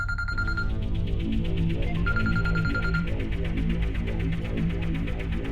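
A phone call ringback tone pulses in a steady repeating rhythm over a continuous low hum, loud and close with no talking.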